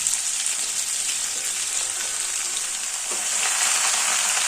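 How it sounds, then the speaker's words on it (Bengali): Potatoes and onion greens frying in a pan, a steady close sizzle with a bright crackle throughout, growing slightly louder near the end, no voices. "পেঁয়াজ কলিটা আলুর সঙ্গে 2-3 মিনিট ভেজে নেব"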